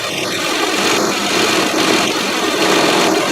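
A 2007 Kia Sedona engine idling up close with the A/C compressor clutch engaged, a steady loud mechanical hum and whir with little variation.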